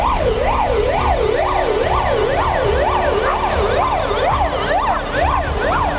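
Ambulance siren wailing up and down in a steady, rapid cycle, loud and close throughout with a vehicle rumble underneath.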